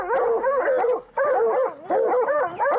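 Hunting dogs bay at a cat treed in the woods, loud and close, with rapid overlapping barks and wavering howls that break off briefly before resuming in bursts.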